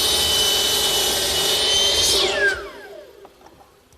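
A miter saw cuts salvage timber to length with a loud, steady high-pitched whine close by, then the blade spins down with a falling pitch as the cut ends.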